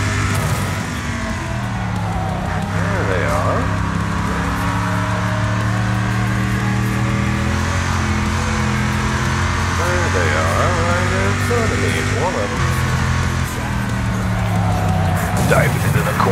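Race cars in the Wreckfest video game diving into a corner: layered engine drones with rising and falling revs, occasional scraping impacts, under excited commentary throughout.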